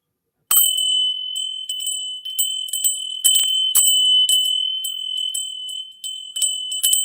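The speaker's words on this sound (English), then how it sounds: "before you train, you would have a bell like this" A bell rung before qigong training gives a bright, sustained metallic ringing with repeated strikes and shimmering jingles, close and loud, with no talking.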